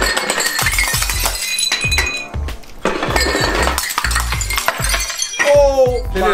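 Drinking glasses stacked for a glass Jenga challenge shatter and clink repeatedly, loud crashes and tinkling shards tumbling in rapid bursts, with voices underneath.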